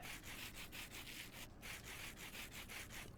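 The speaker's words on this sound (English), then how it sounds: "this diamond grit sandpaper will be a lot better than regular sandpaper." Diamond grit sandpaper rubbing in a video game makes a quiet, rhythmic rasp, back-and-forth strokes repeating at an even pace, faint and alone.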